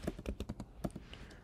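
Quick typing on a computer keyboard, a brief run of light, irregular key clicks heard close and fairly quiet.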